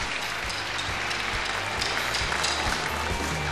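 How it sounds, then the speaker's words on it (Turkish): Applause from an audience at a Rising Star semi-final show, a dense continuous clatter of clapping, fairly quiet and steady for a few seconds. "Alkışlarınızı rica ediyorum."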